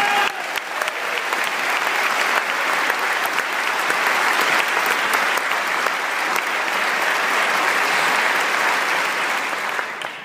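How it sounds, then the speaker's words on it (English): Sustained audience applause at a US Air Force band farewell concert as a performer is welcomed to the stage, steady and full for about ten seconds without a break, then easing slightly at the end. "a round of applause from Ms. Kathy Gaines"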